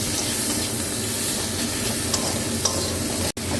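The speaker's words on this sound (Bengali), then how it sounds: "দিয়ে এবার নাড়বো, এটা কষে নেবো।" Spice masala with chili powder and salt being stirred and fried in a pan, a steady close sizzle and hiss with soft scraping, then a brief clunk near the end.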